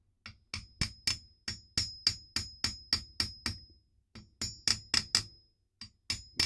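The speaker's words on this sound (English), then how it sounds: "Give your little cap a tap down with the hammer." A hammer taps repeatedly on a metal bearing cap during an Austin A35 A-Series engine rebuild, in quick, steady strikes with bright ringing tones, pausing once before a final cluster of taps.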